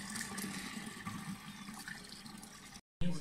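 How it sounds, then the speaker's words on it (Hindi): Fresh water pouring from a village tubewell into a container, a steady rushing gush close by that cuts off briefly near the end, with no talk. "अफ्तारी के लिए जो है वो ताज़ा पानी ट्यूबवेल का भर रहे हैं"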